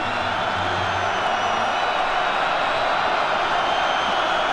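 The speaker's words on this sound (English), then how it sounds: "David urging on this sellout crowd here at Memorial Stadium to help him out." Sellout crowd roaring at Memorial Stadium during a Kansas at Nebraska college football game, a loud, steady, distant-sounding wall of cheering that holds level throughout.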